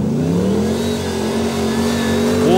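A 4x4 PDL truck's engine revs hard in a loud, sustained mid-pitched roar that climbs and holds, rising again near the end, close and alone without talk.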